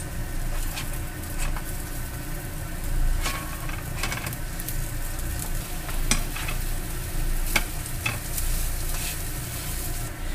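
Hokkaido potato mochi (imomochi) frying in a pan, giving a steady, close sizzle with crackles and small pops that run the whole time, with no talking.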